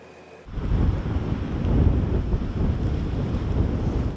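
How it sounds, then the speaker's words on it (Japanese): Storm-driven high waves crash over a seawall on the Tomamae coast of Hokkaido during a severe winter storm, a loud, continuous roaring surge and wind rush that bursts in after a brief quieter moment. "東北の苫前町の海岸では高波が防波堤を越えていました"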